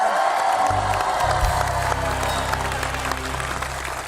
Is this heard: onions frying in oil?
no